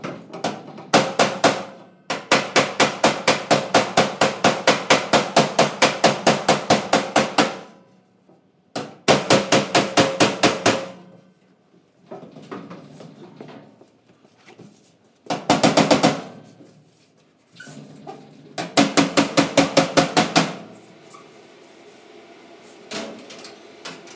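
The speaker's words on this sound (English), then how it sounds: "I think though that I can get in there and just hammer on that." Bursts of rapid metallic hammering on a large flat metal panel being shrunk, in several runs of a few seconds each, loud and close, with quieter clanks and shuffling in the pauses between.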